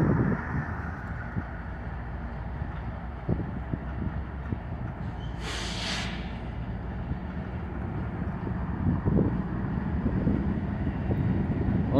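An NS train led by two engines rolls past nearby, a steady heavy low rumble with clanking, plus wind buffeting the microphone and a brief hissing burst midway, with no voices.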